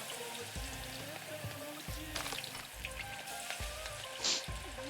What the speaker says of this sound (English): What are we frying?